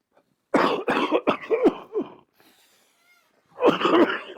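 A heart-failure patient coughing close up in a rapid series of harsh coughs, a short pause, then another burst of coughing.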